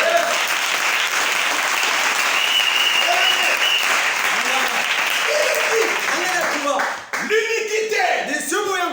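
A church congregation applauds in a loud, sustained wash of clapping that fills the space, with voices rising over it near the end.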